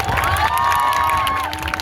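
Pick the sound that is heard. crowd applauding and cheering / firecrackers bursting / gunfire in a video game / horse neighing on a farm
crowd applauding and cheering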